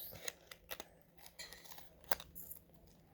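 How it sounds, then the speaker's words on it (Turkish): Plastic packaging crinkling and snapping open around a new cable, a few sharp crisp bursts and rustles close up in a quiet room. "İlk önce o yüzden şu e, kablomuzu açıyoruz."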